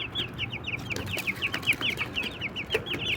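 Three-week-old Shamo Asil chicks cheep and cluck in a rapid, repeating high-pitched chatter, several birds close together, continuous throughout with no talking.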